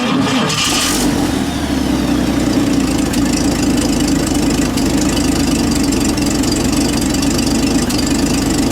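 A 1953 Chevrolet Bel Air convertible engine cranks and catches, then settles into a smooth, steady idle, loud and close with a low rhythmic rumble and no voices over it.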